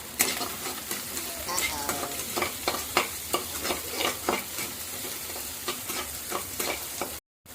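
Cardamom, cloves and cinnamon sizzle and roast in a pan over high flame for egg fried rice, with steady frying hiss and repeated stirring scrapes close up; no voices are heard.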